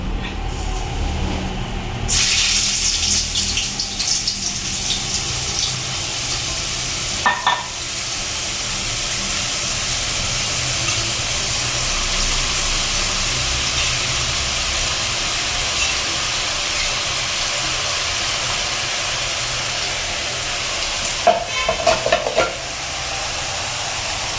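Kara boondi batter frying in a large pan of hot oil, a loud, dense, continuous sizzle that holds steady for the whole stretch, with a few faint clinks and no speech.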